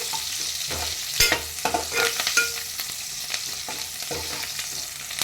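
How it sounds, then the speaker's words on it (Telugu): Dried prawns frying and being stirred in a pan for a tamarind-leaf curry, with a steady close sizzle and several sharp scraping and clattering strokes from the spatula, no talking. "అయితే పచ్చి స్మెల్ పోయే వరకు వేయించుకోవాలండి"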